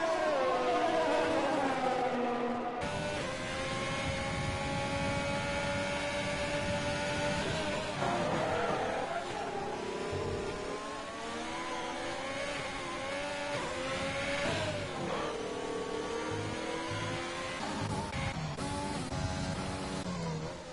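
Engines whine and rev continuously through a racing video game, pitch rising and falling with gear changes and a brief flickering stutter, steady and loud with no talk over it.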